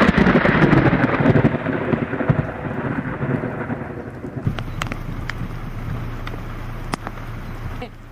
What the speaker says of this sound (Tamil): வானில் ஒரு மின்னல், வானம் தரை தட்டின மாதிரி ஒரு பெரும் இடிச்சல்